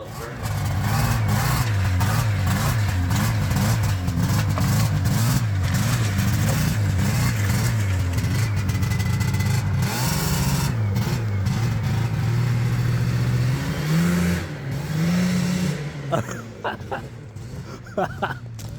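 A Yamaha SRV 540 snowmobile engine, a barn-find rebuild, runs loud and close with a steady two-stroke drone, then rises and falls in revs near the end while people talk over it.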